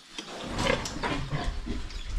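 Pig on a Filipino farm raised for slaughter, grunting in a few short, close, rough bursts over a steady background of farm noise.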